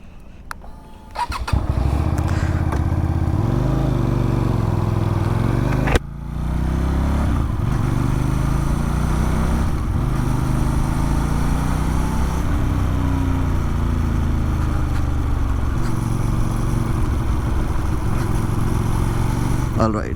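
A QJ Motor SRV 300 motorcycle rides at night, its engine droning loud and close with rising and falling revs and a brief drop in sound partway through, while a rider speaks over it.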